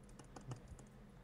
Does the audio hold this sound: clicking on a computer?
yes